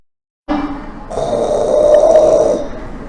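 A man imitates loud snoring with his voice, one long rasping, throaty snore that starts abruptly, swells and holds, very loud and close.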